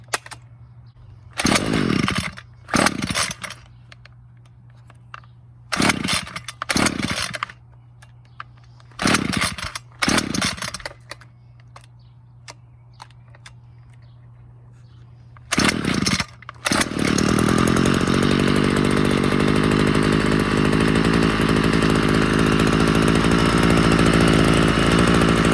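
A Ryobi CS26 string trimmer engine is pulled over in several short bursts, then catches and runs loudly and steadily for the last stretch, its note sagging as it bogs down. No one talks.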